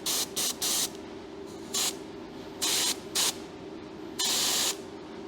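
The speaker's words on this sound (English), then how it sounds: "I haven't broke out the old airbrush in a long time." An old airbrush sprays paint in short hissing bursts, several close together, a couple of longer blasts and one sustained spray near the end, with steady background noise between them.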